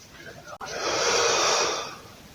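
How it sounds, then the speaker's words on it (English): A long, steady breath drawn in and let out during a guided stretching exercise, a broad airy rush that swells and fades over about two seconds after a brief sharp catch, close and fairly loud with no talking. "Next vital part, we're breathing in, coming down."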